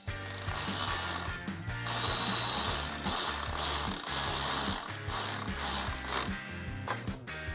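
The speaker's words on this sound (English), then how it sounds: "tighten those down with a 10mm socket and wrench" A ratchet wrench with a 10mm socket tightens a nylock nut on a cold air intake bracket of a 2009-2021 Dodge Challenger 5.7L, giving a loud, steady run of close mechanical ratchet clicks with no talk.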